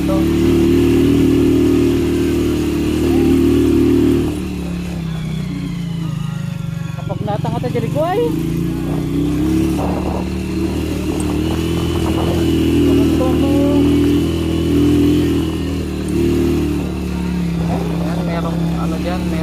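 A motorcycle engine hums steadily at close range while riding a rough mountain road scattered with fallen rocks and landslide debris, with a voice talking over it throughout.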